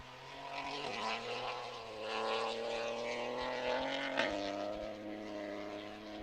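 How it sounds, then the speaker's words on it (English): A rally car powers flat out over a crest on a forest special stage, its engine note climbing steadily as the wheels spin, a droning, rising roar heard from a moderate distance with no talk. "you can just hear the engine note raise as the wheels are spinning"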